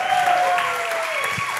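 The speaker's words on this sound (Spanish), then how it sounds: "¡Un aplauso más fuerte de nuevo!" An audience at a year-end concert at a music centre claps loudly and steadily, a dense wash of hands sustained throughout, with a thin tonal whine gliding beneath it.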